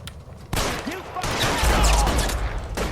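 Gunfire in the video game L.A. Noire, a few sharp loud shots and a brief burst ringing out over game ambience, with a faint voice in the background.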